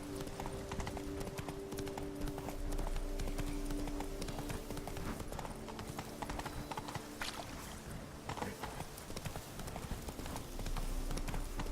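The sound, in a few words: horse hooves galloping in video game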